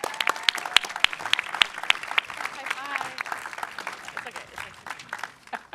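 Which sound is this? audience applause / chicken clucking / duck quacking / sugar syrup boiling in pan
audience applause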